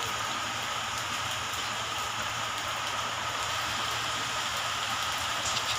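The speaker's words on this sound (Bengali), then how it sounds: "আমাদের বাড়ির চারপাশে তো খুব বৃষ্টি হচ্ছে এবং হালকা হালকা হাওয়াও পর্যন্ত দিচ্ছে।" Heavy rain falls around a house in light wind, a steady, faint hiss of drops on surfaces with no voices, unbroken throughout.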